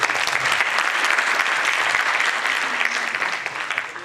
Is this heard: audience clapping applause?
yes